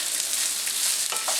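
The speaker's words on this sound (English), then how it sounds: "I'm gonna put the vegetables in there." Vegetables sizzle in a hot pan over high heat, an American-style stir-fry rather than a wok, giving a steady, close, bright hiss with light stirring scrapes and no talking.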